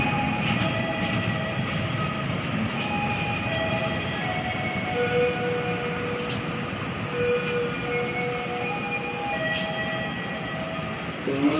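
A train pulling into Banjar station, a steady rumble of rolling cars with metallic squeals and a few sharp clanks, close and continuous.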